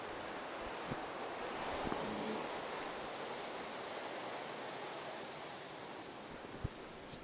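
Ocean surf rolls in at Caves Beach, a broad, steady wash of breaking waves with wind buffeting the microphone and a few faint knocks, no voices.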